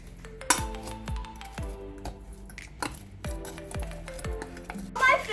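French fries being tossed with oregano and salt in a bowl, giving a run of close clinks and scrapes against the bowl while a voice talks over the mixing.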